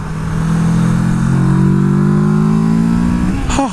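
Kawasaki Versys 650 parallel-twin motorcycle accelerating on the road through its exhaust, a loud steady engine drone rising smoothly in pitch over a few seconds, then a quick shift or blip at the end with wind rush underneath.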